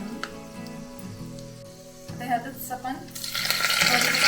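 Green chillies fry in a pan for kanda poha; someone talks over faint crackling at first, then a louder, hissing sizzle swells near the end.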